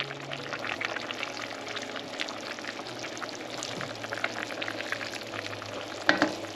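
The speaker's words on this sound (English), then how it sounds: "as long as my gravy is cooking and boiling until it's done" Homemade chicken gravy boiling and bubbling steadily in a pot, a soft continuous sizzle with a brief louder clatter near the end.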